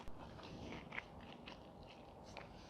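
Someone biting and chewing a freshly fried Lebanese sambousek pastry, giving soft, close crunching and mouth sounds that blend into a continuous quiet chew over a few seconds.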